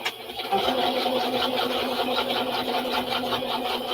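A sewing machine runs continuously, stitching zigzags onto a handmade journal with a steady whirring chatter at close range.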